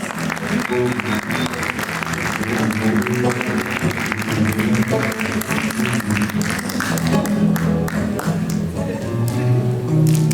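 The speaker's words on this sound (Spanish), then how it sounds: "Fuerte los aplausos, fuerte, fuerte los aplausos maravillosos." Loud, sustained audience applause at a live Peruvian stage performance, a continuous crowd of clapping hands running throughout with some voices and tonal sound beneath.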